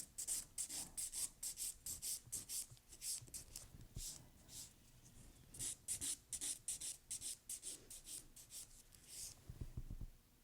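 A nail file rasps across an acrylic nail in a square stiletto shape, giving long, rhythmic, close strokes in quick bursts, with a voice talking quietly underneath.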